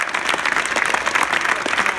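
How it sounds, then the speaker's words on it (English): An audience at a high school robotics tournament claps for the competing teams, producing dense, continuous applause that holds steady throughout. "Let's have a round of applause for all the teams again competing here today."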